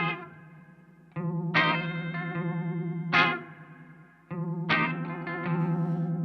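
Electric guitar through a Uni-Vibe effect pedal with its controls maxed out, a series of ringing chords and notes pulsing with deep, fast warbling modulation, loud and close with no voices.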